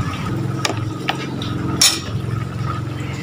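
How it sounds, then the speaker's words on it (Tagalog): Water pours steadily into a pot of pork adobo, with a continuous splashing fill sound and a few light clinks of cookware, with no talking. "At lalagyan natin ng tubig."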